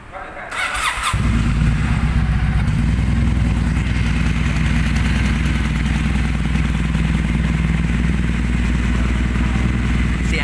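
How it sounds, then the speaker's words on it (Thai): A 2017 Kawasaki W800 motorcycle engine cranks and fires up, then settles into a loud, steady, throbbing warm-up idle that runs on close by. "เดี๋ยวผมจะพาไปฟังเสียงเครื่อง W800 จะเป็นอย่างไรบ้างไปฟังกัน"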